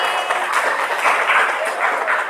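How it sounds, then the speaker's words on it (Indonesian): A classroom applauds a student named Fitri after her history presentation, a short burst of steady, dense clapping with no pauses. "tepuk tangan buat Fitri"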